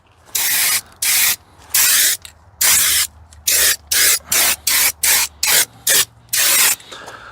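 Spray painting a coat onto a part for a 1965 Chevy C10 pickup, a dozen short hissing bursts from the can at close range in a quick irregular rhythm, separated by brief pauses.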